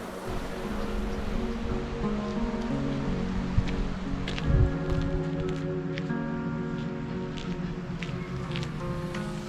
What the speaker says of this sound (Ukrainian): оцей ранковий спокій, шум річки це просто неперевершено